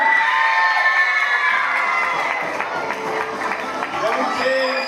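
Loud crowd cheering and applause at a live quiz show in Sant Josep de sa Talaia, with excited shouts and whoops, children's voices among them, continuing steadily throughout.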